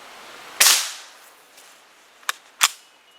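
A QB78 CO2-powered air rifle fires one sharp, loud crack, followed a moment later by two fainter, short clicks or pops in an otherwise quiet setting.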